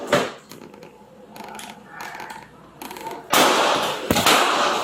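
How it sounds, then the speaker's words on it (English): Gunshots ring out during a police shooting as sharp, loud bangs, one at the start and a harsh burst of several near the end, with quieter rustling and muffled sounds in between. "Shots fired, shots fired."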